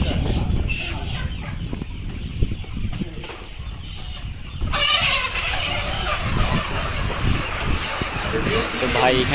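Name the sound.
layer chickens clucking while being selected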